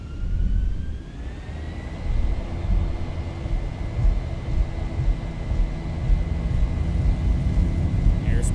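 Simulated Boeing 737 engines in X-Plane 11 (Zibo 737) spool up toward takeoff thrust, a steady loud jet roar with a rising whine, continuous throughout.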